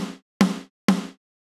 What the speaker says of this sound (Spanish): y el micrófono de la parte inferior del snare